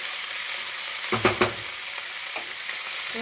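Red amaranth greens are stirred into a pan with garlic and green chillies, frying under a steady soft sizzle, a few sharp scraping knocks of the spatula breaking through midway; no talk.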